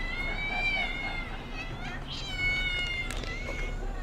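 Several cats in a cat colony meow repeatedly around feeding time, with overlapping high cries rising and falling over a steady background hum.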